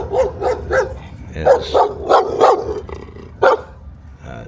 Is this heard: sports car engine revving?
no